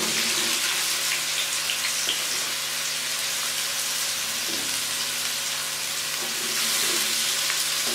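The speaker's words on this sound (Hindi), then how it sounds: "ऑयल गर्म हो गया, अब मैं इसमें टिंडे शामिल कर दूंगी।" Ridge gourd (tinda) pieces frying in hot oil in a pan, a steady close hiss and crackle of sizzling with a faint hum beneath and occasional soft stirring knocks.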